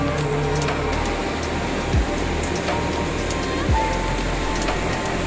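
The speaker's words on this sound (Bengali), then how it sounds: "এখানে জলের প্রচণ্ড স্পিড, আর তেমনি আওয়াজ" Fast river water rushes steadily at a confluence below a hillside temple, a dense, constant roar close by with a couple of brief low thumps and faint talk underneath.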